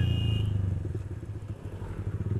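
A Yamaha R15 motorcycle fitted with a loud full-system exhaust idles and burbles close by, its deep pulsing thump steady and throbbing with a slight crackle.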